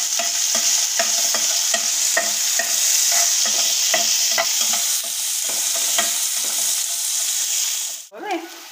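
Sliced onion with panch phoron frying in hot oil gives a close, constant sizzle, broken by regular scraping stirs of a spoon in the pan, with a brief clatter near the end.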